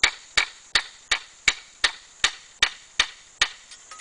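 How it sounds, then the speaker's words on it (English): A hammer strikes with a glancing, scraping motion in a steady series of about ten sharp, evenly spaced blows, each with a short ringing decay, close and loud with no talking. "When you hammer, don't hammer directly down. Let it scrape like this."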